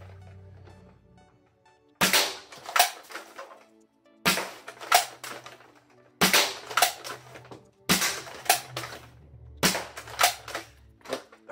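A foam dart blaster fires five worker darts from a Katana magazine in a rapid series of sharp, snappy shots. Brief quiet gaps separate the groups of cracks, and mechanical clicks come between them.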